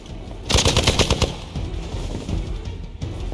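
Rapid automatic gunfire in the Marvel's Midnight Suns video game, a loud burst of quick repeated shots followed by rumbling impacts and scattered blasts.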